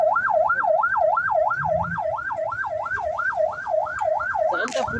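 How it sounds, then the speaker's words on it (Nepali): An ambulance siren wails in a fast, regular up-and-down pattern from fairly close by, heard through a traffic jam on a Nepali road with a low rumble of vehicles underneath. "एम्बुलेन्स कराइरहेको छ।"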